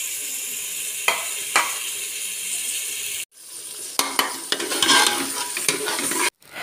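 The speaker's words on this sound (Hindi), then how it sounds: "ऑयल डाल के अब मैं इसको इसके अंदर जो है वो फ्राई कर रही हूँ।" Minced keema frying in hot oil, a steady close sizzle broken by scraping stirs of a spoon in the pan, with two brief pauses in the sound.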